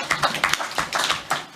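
Several separate claps ring out in an uneven rhythm, sharp and close, at a grant committee meeting, more like a few hands clapping than a full crowd.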